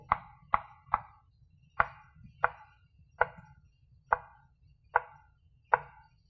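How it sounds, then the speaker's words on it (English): A knife cuts eggplant at an angle on a board, nine crisp, evenly spaced chops with a low background hum underneath. "Then I'm going to cut the eggplant in half this way. And then I'm just going to cut it at an angle."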